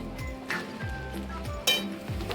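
Sabudana khichdi with potato is stirred in a kadhai, a spoon scraping and clinking against the metal in repeated strokes about every half second, over a soft sizzle, with one louder clank near the end.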